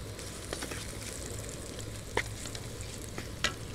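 Palm sugar melting in a hot pan, a continuous close sizzle and fry with a few sharper crackles and spatters scattered through it, no talking.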